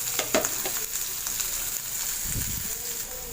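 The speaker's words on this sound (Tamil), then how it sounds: "வெங்காயம் நல்லா பொன்னிறமாக வதங்கணும்" Chopped onions sauté in a pan for a chicken gravy, giving a steady, soft sizzle with a few scraping stir sounds, close and alone with no voices.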